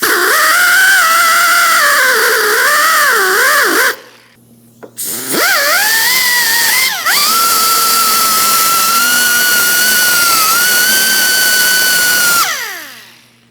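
A rotating cleaning wheel on a power tool whines loudly against a brake caliper bracket on a 2005-2010 Chrysler 300, pitch dipping under load, with a brief stop and restart before running steadily and spinning down.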